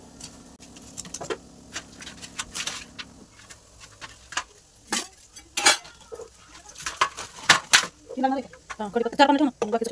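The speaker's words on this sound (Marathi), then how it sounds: "तोपर्यंत आपण इथे पालक कट करून घेऊ" A knife chops fresh spinach on a board in a home Indian kitchen, giving a run of sharp, close taps and clatters, uneven and quickening toward the end, with a voice talking at times.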